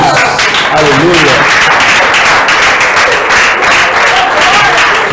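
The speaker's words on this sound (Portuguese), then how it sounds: "Dê um aplauso para Jesus." Church congregation breaking into sustained, dense applause, loud and continuous with many hands clapping at once.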